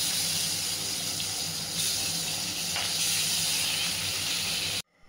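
Small pieces fry in hot oil inside a covered pan, giving a loud, steady, even hiss that carries on alone without pause before stopping abruptly just before the end.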